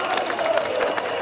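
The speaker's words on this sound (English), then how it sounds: "Let's have a round of applause for Tommy Robinson." Outdoor crowd at a street rally, a noisy mass of cheering voices and scattered clapping blending into a steady, loud roar.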